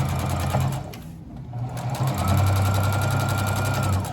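A sewing machine stitches steadily while running out the bobbin for a scrap quilt block, its motor hum rising after a brief pause and holding at a close, even whir to the end.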